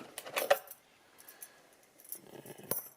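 Keys for an Elemake mechanical deadbolt door lock jangle and clink as they are handled, a few close, quiet metallic rattles separated by near silence, with no talking.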